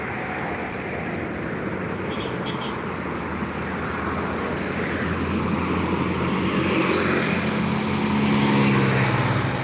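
Small trucks pass along a quiet road in the early morning, a steady low roadway rumble that swells louder toward the end as a vehicle draws near.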